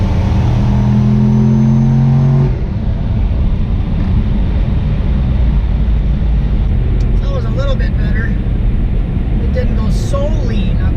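A turbocharged LS-swapped Cadillac Escalade engine, loud and close, holding a steady strained roar with a sharp shift in tone partway through, wind rushing over the microphone throughout.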